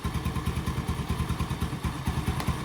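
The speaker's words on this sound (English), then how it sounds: "So I got this thing out here started and idling." A homemade three-wheeler's engine idles rough and rich, thumping in a quick, steady, even pulse close by, with no voices over it.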